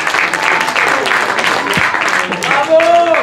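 A crowd applauds steadily for a ball-juggling contestant at an outdoor juggling competition in Borgo-Seravezza Pozzi, with a dense wash of clapping throughout and a voice briefly speaking over it.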